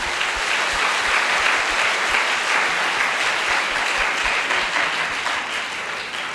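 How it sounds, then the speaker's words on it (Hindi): A worship congregation claps loudly and continuously for Lord Jesus, with dense, steady applause filling the room throughout and easing off slightly toward the end. "प्रभु यीशु के लिए जोरदार ताली बजाइए।"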